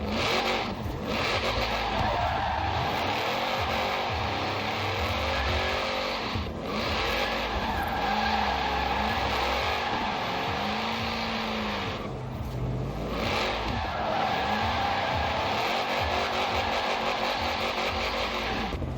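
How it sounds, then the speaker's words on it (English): A Shelby 1000 in the video game Forza Horizon 4, drifting with a loud, sustained engine roar and wavering tire squeal as it slides through corners, the revs rising and falling across several long slides. "looks like I got the hang of drifting the car now, but I still overspun it"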